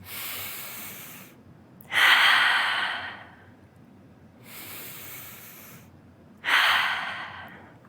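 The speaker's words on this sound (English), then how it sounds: "Take a deep breath in. Exhale it out. Inhale and exhale." Deep breathing during a gentle exercise session, two slow cycles of audible, airy inhales and longer, louder exhales, close and alone with no talk.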